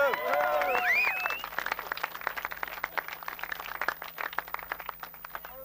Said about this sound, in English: Give James a good cheer too, lads.